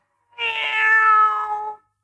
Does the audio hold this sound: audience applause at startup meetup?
no